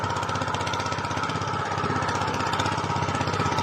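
A multi tiller's engine churns through hard farm soil, running steadily and loudly with a constant chugging drone throughout, close by and without any talk.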